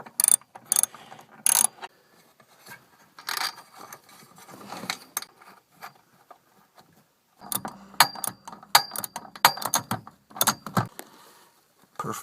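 Hand ratchet tightening a ground wire bolt onto a metal car chassis during an amplifier and subwoofer install: rapid, crisp clicking runs in uneven bursts, close and fairly loud, with pauses and a busier stretch of clicks later on.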